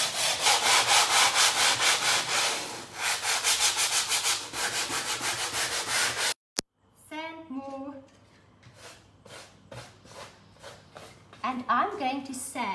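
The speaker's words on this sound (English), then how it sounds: "I'm going to sand so that you can see what's happening." Sandpaper rubs by hand across a stenciled surface coated in Tjhoko chalk paint, a loud run of rapid rhythmic scratchy strokes followed by a short break and then someone talking with a few fainter rubbing strokes.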